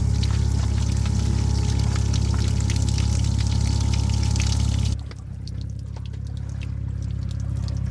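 Steady, heavy rush of water pouring out of a boat continuously, loud and close, then it abruptly drops to a quieter trickle and splashing.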